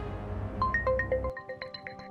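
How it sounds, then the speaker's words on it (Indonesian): A phone rings in an Indonesian TV drama scene with a bright, melodic ringtone of short repeated electronic notes. It plays loud and close for about two seconds over a low background that cuts out partway through. "Ada yang telepon."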